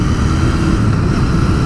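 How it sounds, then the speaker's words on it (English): A 2019 Royal Enfield Continental GT 650 twin on its stock exhaust rumbles at a steady idle, a dense low throb that holds constant and fairly loud throughout, with no voices. "This engine just has a fabulous note"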